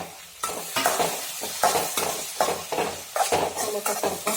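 Chopped tomato with ginger and garlic fries in oil in a pan while a spoon stirs it, loud close sizzling broken by a rhythmic run of scraping strokes.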